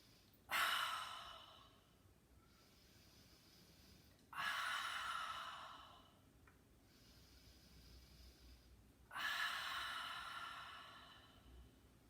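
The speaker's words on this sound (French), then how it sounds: "à l'expire, on va ouvrir la bouche, bouche ouverte" Three deep open-mouthed exhales during yoga breathing, each a soft breathy rush that starts strong and fades, evenly spaced about every four to five seconds in a quiet room.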